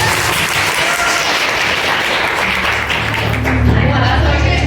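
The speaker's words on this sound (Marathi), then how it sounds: "त्याबद्दल सगळ्यांना टाळ्या वाजवूया" Audience applause fills the room after a ramp walk at a Women's Day celebration: dense, continuous clapping from many hands, steady and loud throughout, with some voices mixed in.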